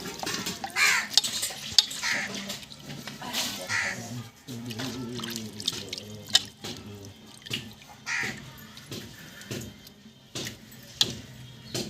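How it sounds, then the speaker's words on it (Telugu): Water splashes and sloshes irregularly as cut pieces of rohu fish are washed by hand in a vessel. The sloshes come in uneven bursts with drips and clinks, and faint background voices can be heard. "ఇంకైతే ఇవి నీట్గా కడిగేసుకోవాలన్నమాట"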